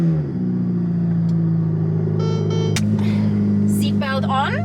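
A Ferrari F8 Tributo starts up inside the cabin and settles into a loud, steady idle rumble, with a few sharp clicks and beeps toward the end and a person talking over it.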